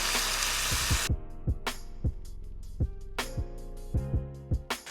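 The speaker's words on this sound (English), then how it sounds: "We're gonna increase the heat, cook off any of that water or steam, get that out of there so there's no liquid at the bottom of your skillet." Chicken sizzles loudly in a hot skillet as leftover water cooks off, a dense hiss in the first second giving way to a softer frying crackle broken by repeated sharp clinks of a utensil against the pan.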